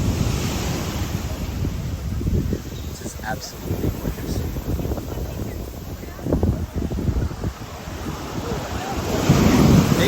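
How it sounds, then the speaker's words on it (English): Big ocean waves crash onto a beach in Guadeloupe, a continuous loud roar of surf with heavy wind buffeting the microphone while a person speaks briefly. "Big waves here today."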